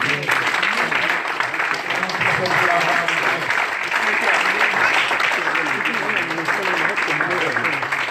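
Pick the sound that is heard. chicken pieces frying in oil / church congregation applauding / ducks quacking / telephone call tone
church congregation applauding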